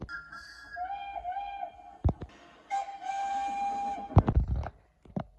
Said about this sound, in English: you would hear Emily's classic whistle, but then sometimes you would hear her CGI whistle